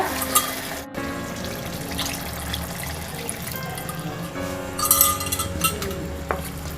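Water is poured into a pan while cooking vermicelli chicken biryani, giving a continuous splashing and sizzling wash with some clinks of cookware throughout.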